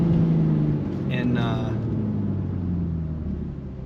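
A BMW M3 fitted with a BMS intake, heard from inside the car while driving: a steady low engine drone with a brief rising tone partway through, and a faint voice murmuring.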